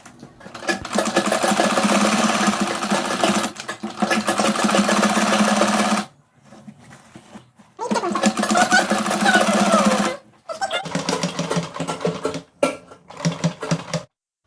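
A sewing machine stitches the edge seam of a skirt being remade into a gown, running in steady close bursts of several seconds each, with short pauses and brief stop-start runs toward the end.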